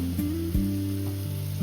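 Green masala paste fries in a pan for a traditional Konkani dried fish dish, a soft continuous sizzle under steady kitchen hum, no talk.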